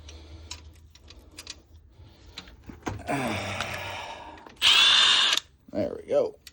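A power tool whirs in short bursts while unscrewing bolts from a transmission's clutch cover area in a shop, with a loud high-pitched spin near the end; someone talks around it.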